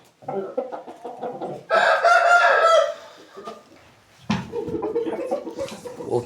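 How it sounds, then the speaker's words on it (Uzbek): A large young rooster, hatched in late February or early March, crows once loudly and nearby between bursts of clucking and other fowl calls. "Yaxshi xo'roz bo'ladi."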